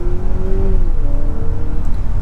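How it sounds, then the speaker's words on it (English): Synthetic engine sound piped into the cabin of a 2025 hybrid sedan in sport mode, a steady droning tone that rises in pitch then settles, continuous over road rumble without talk. "So this gives you the fake engine sounds in sport mode, so it sounds a little cooler"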